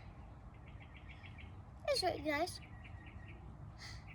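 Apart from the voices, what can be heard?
birds chirping outdoors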